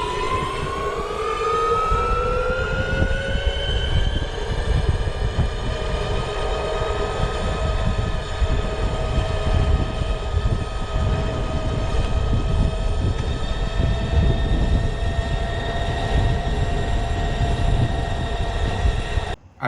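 Electric bike motor under throttle climbing a steep hill, a loud, steady high-pitched whine that rises in pitch at first and then holds level for a long stretch over rumbling road noise.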